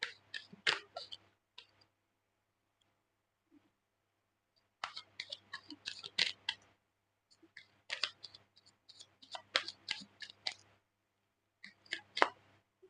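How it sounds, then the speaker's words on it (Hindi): Tarot cards being drawn and handled from a deck, with soft clicking, ticking and flicking card sounds in bursts and a pause in between, close and fairly quiet with no talking. "पहले मैं कार्ड्स निकाल लेती हूँ"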